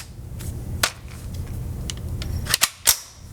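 A Ruger 10/22 Takedown rifle in a Magpul X-22 Backpacker stock fires Federal Target .22 ammunition outdoors, with about four sharp, light cracks spaced irregularly, the last three close together.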